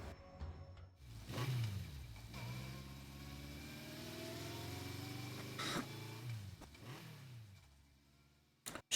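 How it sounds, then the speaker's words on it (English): A motorcycle engine from the visual novel Steins;Gate 0 revs in rising and falling surges, then pulls away steadily and fades out, ending with a sharp click. "took off on her motorcycle."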